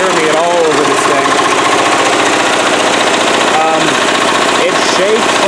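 A Cub Cadet tractor with a turbo diesel engine runs loud and steady outdoors in a yard, its rough, shaking rumble constant throughout while someone talks over it.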